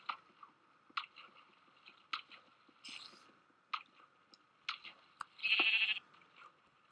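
Several short sheep bleats from Minecraft's blocky sheep, sounding at intervals near and fairly quiet, with no talking, mixed with small game clicks and chewing-like noises.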